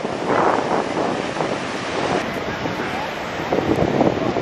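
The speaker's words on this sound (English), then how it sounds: "What's crazy is the water so strong you can barely see the falls." Niagara Falls roars as a constant, powerful rush of water, dense and close, with wind buffeting the microphone throughout.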